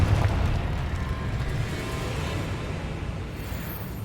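A Confringo blast from Hogwarts Legacy, a loud booming burst at the start that trails into a long rumbling roar, heard alone without talk.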